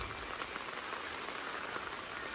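Monsoon rain falling in a Kerala village, a steady even hiss of rainfall with no distinct drops standing out, fairly faint and continuous.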